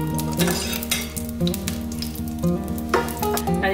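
Ghee heats in a kadhai on the stove, giving a soft, steady sizzle with a few faint metallic clinks from the pan, close by and without voices.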